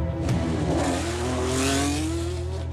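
A Red Bull Racing Formula 1 car engine revs loudly and climbs in pitch, a single sustained rising whine with a faint tire edge, heard up close and with no one talking.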